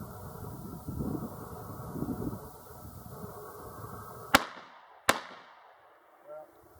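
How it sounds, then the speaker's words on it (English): A shotgun is fired at a can set on the far left. Someone talks first, then two sharp, cracking reports ring out less than a second apart and each fades quickly in the open air. "I'm going to shoot this can on the far left."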